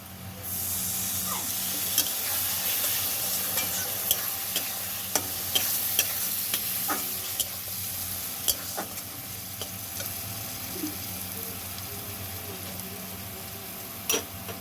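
Chicken masala for a broiler chicken curry sizzles and fries steadily in the pan after a splash of water, with scattered sharp clicks of a spoon stirring and scraping throughout, close and unaccompanied by talk.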